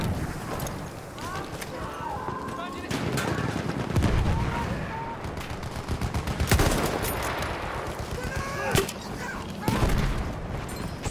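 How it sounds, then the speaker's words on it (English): Enemy machine gun fire in a Battlefield game, with clusters of crackling shots coming in irregular bursts over a busy battlefield din and shouted voices. "Enemy machine gun!"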